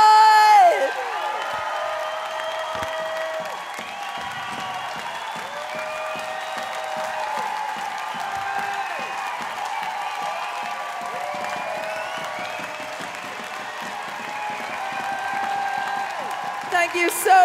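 Loud, sustained applause and cheering from a concert crowd at a Brighton Festival show, with whoops rising over steady clapping that runs throughout and swells again near the end.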